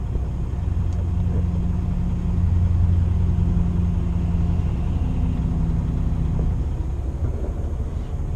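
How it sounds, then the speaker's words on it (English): A yard truck idles nearby with a deep, steady engine rumble and exhaust drone, holding a constant low throb with slight swells throughout. "check out this cool yard truck"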